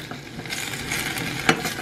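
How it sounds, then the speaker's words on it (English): Spinach sizzling and crackling in a hot pan while being stirred, a steady close fry with a sharper scrape or spatter near the end. "I hear the sizzling."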